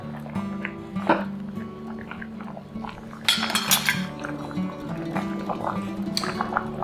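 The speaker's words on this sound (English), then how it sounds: "Just stir it around." A spoon stirs seafood soft tofu soup in a pot, with light clinks and scrapes of utensil against the pot over a low background hum, and a busier burst of clatter partway through.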